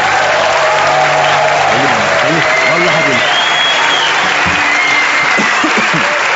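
Studio audience at a Turkish comedy show applauding loudly, with dense, continuous clapping and cheering throughout while a voice talks over it.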